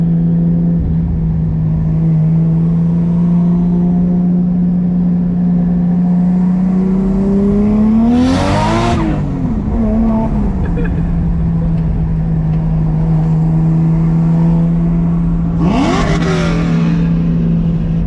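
A tuned Nissan Chaser with a Supra transmission accelerates hard while racing, its loud, close engine droning steadily and rising through the revs, with two brief whooshing bursts as it shifts gears.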